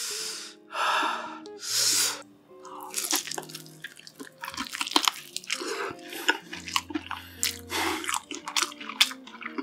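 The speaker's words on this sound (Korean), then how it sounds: "치킨 하나 먹고 마저 먹을게요" Close, crisp bites and wet chewing of fried chicken, eaten in bursts with breaths and gasps between them and low murmured vocal sounds mixed in.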